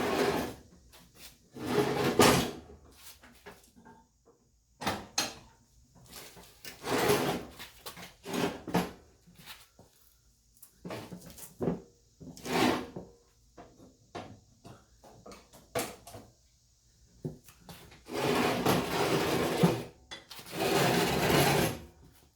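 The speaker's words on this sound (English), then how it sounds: "now we can pull the mower deck out of the right side" A Craftsman riding mower deck is dragged out from under the mower, heavy metallic scraping and rattling bursts come in irregular pulls separated by short pauses, close by with no talking.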